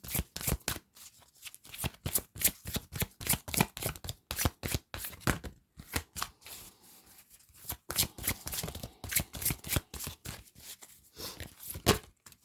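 Tarot-style cards are shuffled and drawn for a reading, a rapid run of crisp riffling flicks and slaps close up, with a brief pause midway before the shuffling resumes, alone without voices.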